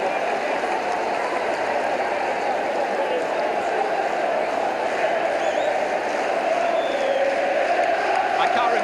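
Dense, roaring stadium crowd at a 1989-90 Manchester City versus Manchester United derby, cheering steadily and loudly throughout, with a commentator's voice faintly under the din.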